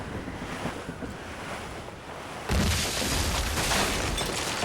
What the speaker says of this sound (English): It's quite a rough squall, Captain.